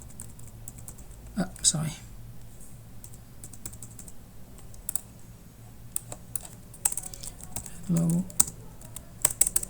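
Typing on a computer keyboard: irregular bursts of close, crisp key clicks spread throughout, with a few heavier taps, while a voice briefly speaks over the typing.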